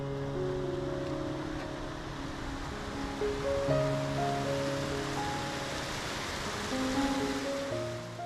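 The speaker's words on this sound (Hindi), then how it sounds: "यह झरना एक बड़ी सी चट्टान से नीचे गिरता है" Krangsuri waterfall in Meghalaya plunging over a large rock, giving a steady, dense rush of falling water that holds level throughout, with tonal music sustained over it.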